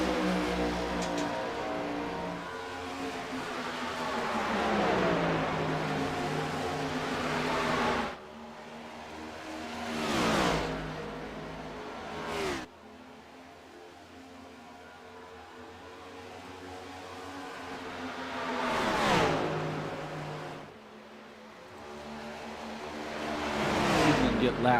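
Race cars circle Charlotte Motor Speedway during the Katie Robinson Memorial 500, their engines roaring close and then dropping in pitch as several pass by in sweeping waves, with voices talking over the racket.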